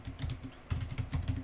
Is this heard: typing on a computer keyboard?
yes